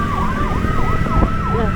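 An ambulance siren wails loud and close in a steady, repeating up-and-down sweep, heard from a car driving right behind the ambulance through heavy traffic in Bali, with road rumble underneath.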